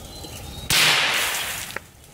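One sharp 5.7 caliber pistol shot is fired into solar panels; it bursts loudly and fades with a hissing tail, followed by a small click just over a second later.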